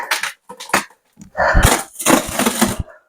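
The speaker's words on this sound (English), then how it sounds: "That noise you just heard was the fiberglass ripping" Fiberglass rips apart against a too-strong bond during a major restoration: a few short cracking snaps, then two long, loud, close tearing bursts.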